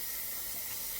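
Hot steam hisses steadily from a pressure canner processing sweet corn, a continuous loud broadband hiss with no break and no voices.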